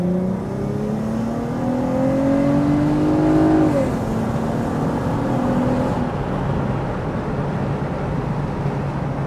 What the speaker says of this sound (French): Ça chante bien quand même un V6, c'est cool.